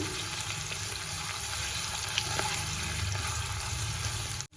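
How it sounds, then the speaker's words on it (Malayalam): Paneer cubes fry in oil over a medium flame with a continuous, even, bubbling sizzle, close and fairly loud, and nobody talks over it. "അപ്പോൾ നമുക്കിത് ചെറുതായിട്ടൊന്ന് ഫ്രൈ ചെയ്തെടുക്കാം."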